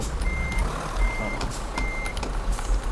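An Iveco truck in the Euro Truck Simulator 2 game reverses, its steady backup alarm sounding three long, even beeps over a constant low engine rumble, with no voices.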